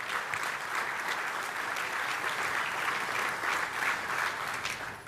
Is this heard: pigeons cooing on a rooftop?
no